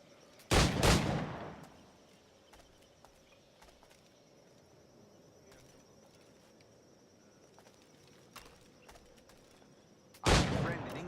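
Two loud, sharp blasts of flintlock gunfire in the Assassin's Creed pirate game, one near the start and another near the end, with a low ambient rumble between them.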